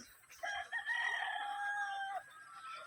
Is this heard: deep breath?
no